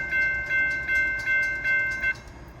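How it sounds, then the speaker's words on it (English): An Amtrak passenger train runs through Folkston, Georgia, at around 60 mph: a steady series of ringing tonal pulses about every 0.4 seconds over a low rumble, the pulses stopping near the end while the rumble continues. "it's definitely moving faster than the other trains. It's got to be the Amtrak"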